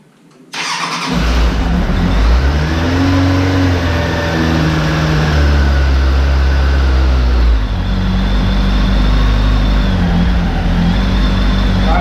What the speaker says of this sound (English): So I'm going to get it started and let it warm up